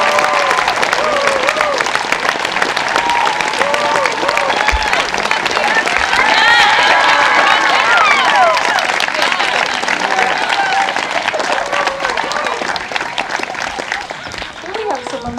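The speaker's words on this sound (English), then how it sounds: "can I please have a round of applause" A commencement ceremony crowd claps and cheers continuously and loudly for the graduating class, the applause holding strong for several seconds before tapering slightly near the end.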